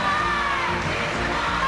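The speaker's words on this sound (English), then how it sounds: "There you can hear the crowd" Crowd cheering and whooping at a live Easter worship performance, a sustained broad roar of many voices, loud and continuous with no single voice standing out.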